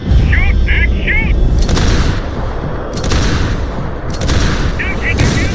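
Gunfire in Max Payne 3 erupts in loud repeated bursts, several rapid volleys separated by brief gaps, over a dense battle din with shouting voices mixed in.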